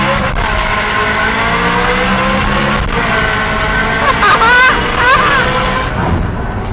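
A BMW E9X M3 fitted with a Tneer catback exhaust and catless downpipe revs hard and close. Its loud, raspy engine note rises and falls in quick surges and continues throughout.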